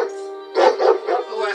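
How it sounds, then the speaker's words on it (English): A dog barks and growls up close in short, rough bursts that rise over a sustained droning tone, loud and insistent for a moment. "He's my blind seeing eye dog."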